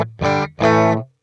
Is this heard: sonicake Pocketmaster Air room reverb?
yes